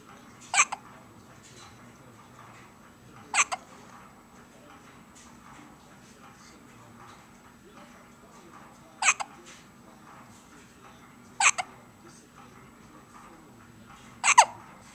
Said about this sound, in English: Even as she sleeps, she gets the hiccups.